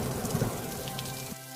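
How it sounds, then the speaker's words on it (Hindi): A heavy downpour drums on surfaces in a rural village, loud and dense with close drops, then cuts off abruptly near the end of the short stretch. No voices are heard. "झमाझम बारिश हो रही थी।"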